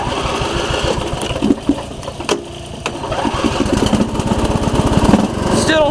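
A re-powered Husqvarna hydrostatic lawn tractor engine cranks, catches and runs with a rapid, steady chugging putter close by, its revs rising toward the end.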